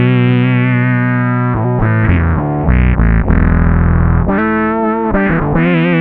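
Bass guitar run through a fuzz synth effects preset plays a lead-style line of buzzy, synth-like sustained notes with sliding pitch, loud and alone.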